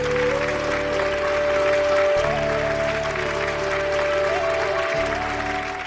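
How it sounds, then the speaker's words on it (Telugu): A studio audience on a Telugu television family show claps loudly and continuously for several seconds, with sustained musical tones running underneath the applause. "వాళ్ళిద్దరికి మనం అందరం చప్పట్లతో ఆల్ ది బెస్ట్ చెప్దాం"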